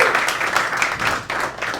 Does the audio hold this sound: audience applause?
yes